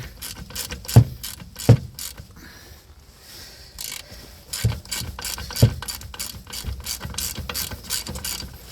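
A ratchet clicks rapidly while loosening a T45 Torx bolt on a Skoda Fabia front brake caliper. The close, loud clicking comes in bursts, with a few sharp metallic knocks in between and no talking.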